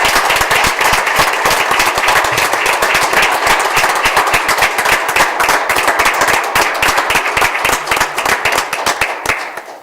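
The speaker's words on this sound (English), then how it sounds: "Everybody, let's give Dan a round of applause." Audience at a township trustees meeting giving sustained applause, dense rapid clapping that holds steady for most of the stretch before tapering at the end.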